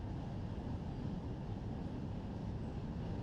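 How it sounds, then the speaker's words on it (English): Train in Run 8 Train Simulator rolling past near West Colton as a steady low rumble of engines and wagons, even and continuous, with no voices. "here's our train coming through"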